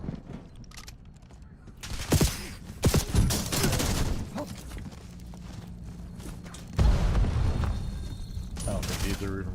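Video game gunfire in a first-person shooter, with bursts of rapid shots and booms clustered around the middle and late parts, loud over constant game noise while someone talks.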